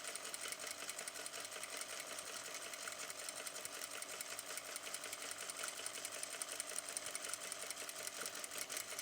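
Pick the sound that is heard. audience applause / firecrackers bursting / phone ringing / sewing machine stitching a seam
sewing machine stitching a seam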